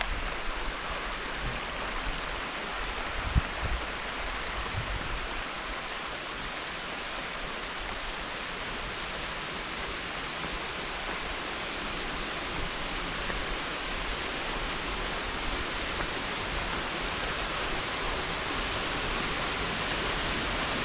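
A waterfall in a mountain gorge in Kyrgyzstan roars as a steady, broad rush of falling water, constant and loud throughout with no talk.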